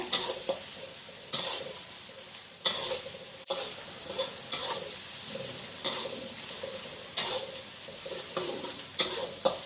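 Cooked white rice stir-fried in a pan for fried rice, with steady frying sizzle and repeated scraping, tossing strokes of a spatula against the metal, close and fairly loud with no talking.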